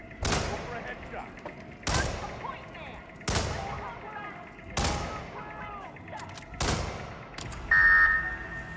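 Hitman 2 gunfire sounds as five loud, separate gunshots spaced about every one and a half seconds, each with a sharp crack and a decaying tail over quieter game ambience.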